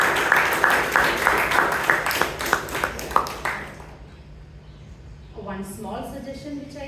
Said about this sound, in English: let's give our President a big round of applause